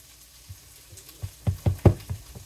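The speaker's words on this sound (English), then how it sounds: "So we'll saute that for a few minutes" Vegetables sautéing in a pan for a ramen dish, with a series of soft stirring and scraping knocks that grow louder toward the end over a faint low sizzle.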